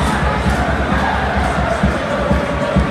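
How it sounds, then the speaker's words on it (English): Crowd noise from a sparse football crowd in a stadium at Stockport County versus Vauxhall Motors, a steady roar of voices and chanting heard at a distance throughout. "a sparse crowd, but a great noise inside the stadium"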